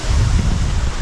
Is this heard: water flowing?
yes